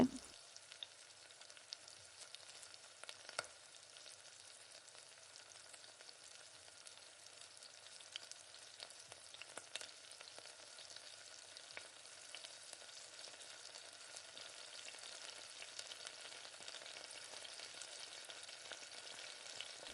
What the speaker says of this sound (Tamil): பாத்திரத்தில் ஒட்டாத அளவுக்கு நல்லா ஸ்டவ்வை கம்மி பண்ணி வச்சுட்டு நல்லா கிளறி கொடுங்க